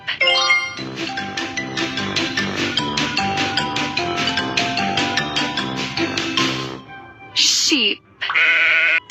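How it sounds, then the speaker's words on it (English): A sheep bleats in a cartoon for children, several wavering, harmonic bleats close and loud, followed by short bright chime-like effects near the end. "Sheep."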